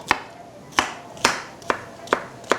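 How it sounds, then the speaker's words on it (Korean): A knife slicing zucchini into thin julienne strips on a cutting board, six sharp, evenly spaced chops close by, each a crisp thud on the board, with no voices. "애호박도 홍고추와 굵기를 비슷하게 썰어서 펼쳐 주신 후에 채 썰어주세요"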